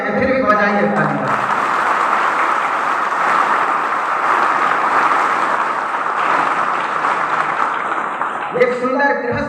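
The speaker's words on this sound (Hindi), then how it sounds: "फिर भी बजाइए तालियां।" Sustained applause from a large crowd, dense and steady for several seconds, with cheering voices near the start and end.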